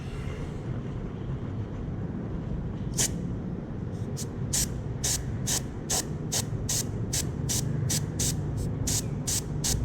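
A spray can hisses in a string of short, evenly spaced bursts onto a paint test card, matching paint for a touch-up on a BMW 118i bumper, close and fairly quiet over steady background noise.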